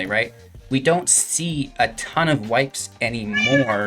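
A house cat meows several times, close and loud, its cries mixed in with someone talking during a card game deck discussion.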